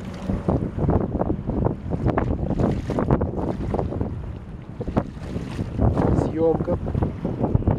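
Small river waves splash and lap against the shore of the Neva in Saint Petersburg, a near, continuous irregular sloshing under blustery wind noise on the microphone.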